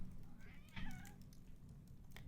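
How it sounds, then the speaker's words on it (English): A cat gives a brief, faint meow close by against a steady low hum, with only soft noises around it. "Yeah, he meows every time."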